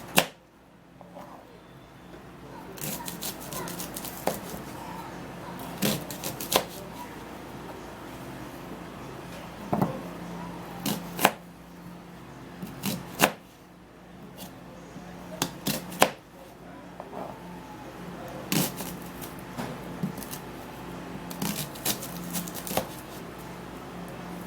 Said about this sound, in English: We're gonna cut the onion in bits.